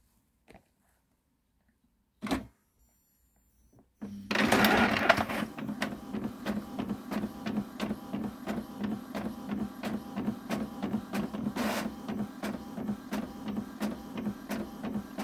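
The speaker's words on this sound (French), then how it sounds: "Et après, je fais imprimer." Small paper dolls being printed on a home printer: after a couple of clicks, the machine starts with a loud whir and settles into a steady, rhythmic mechanical chatter of the print head sweeping back and forth, close and alone.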